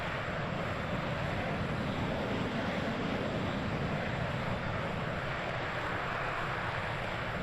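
Boeing B-52 Stratofortress jet engines in Microsoft Flight Simulator 2020 roar steadily and loudly throughout, a dense broadband rumble with no talking over it.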